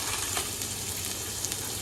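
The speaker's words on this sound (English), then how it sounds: "You want to hear it sizzling." Steady, close crackling sizzle of a smashed burger patty frying in a hot pan, with small pops throughout.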